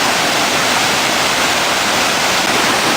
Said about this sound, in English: There's a mess of water coming down there.